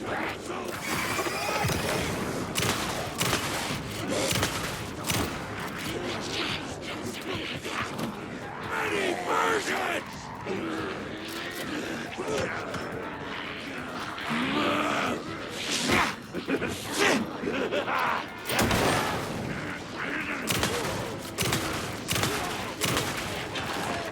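Rapid bursts of 12-gauge shotgun fire in Alan Wake 2 crack repeatedly, heavy shots in quick clusters over a dense, busy background of effects.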